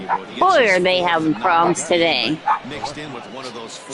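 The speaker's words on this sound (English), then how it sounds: "Excuse my dogs. They are going to continually bark." Several dogs bark, yip and whimper in quick bursts close to the microphone, overlapping someone talking.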